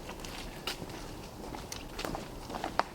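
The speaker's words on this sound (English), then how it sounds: "That was someone walking about." Someone walking about inside an old mill, footsteps faint and irregular, a few soft scuffs and creaks scattered through a quiet, hollow room.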